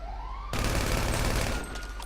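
Sustained burst of rapid automatic gunfire in the video game GTA 5, loud and dense with no speech, following a brief quieter stretch at the start.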